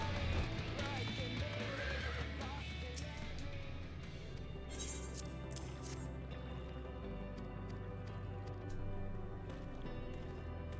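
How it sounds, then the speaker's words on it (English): Shiva's horse mount in Final Fantasy XIV lets out a neigh over continuous game music, and a short bright whinny-like burst rises partway through. "Shiva's horse mount"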